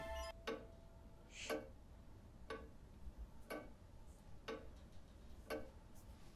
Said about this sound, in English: It's a very loud clock. isn't it?